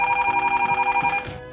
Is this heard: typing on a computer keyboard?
no